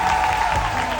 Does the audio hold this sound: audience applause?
yes